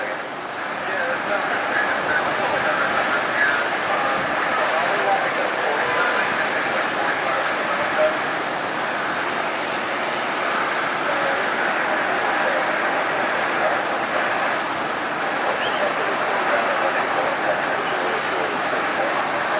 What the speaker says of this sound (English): Flight 1267 to Charlotte with the winglet logos on this 737. They are heading over to the runway.